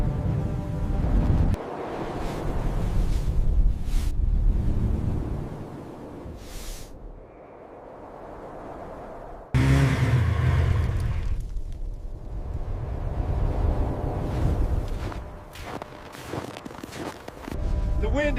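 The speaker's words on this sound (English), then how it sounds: "The wind is gusting over 100 kilometers per hour out here." Strong wind gusting in an arctic blizzard, a loud, continuous roar that surges and rushes, briefly eases to a hollower hiss, then slams back in at full force.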